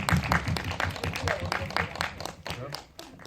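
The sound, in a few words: audience applause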